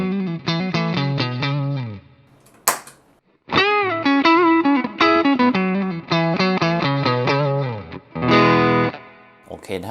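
An electric guitar through a Pedal Tank Zentro Overdrive pedal plays a loud, gritty run of chords and bent single notes. A short pause and a sharp click break the phrase before it resumes.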